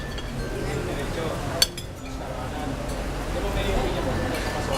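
Glasses clink together in a toast at a casual drinking gathering, a single sharp chime rising out of steady background chatter and table noise.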